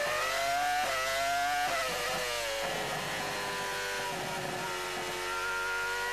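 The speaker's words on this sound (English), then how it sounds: "Let's listen to the Honda engine" The Honda V10 of a Jordan Formula 1 car at the Hungarian Grand Prix screams high and steady, with rising and falling pitch as it shifts and brakes into a tight left-hander, fairly faint and without talk.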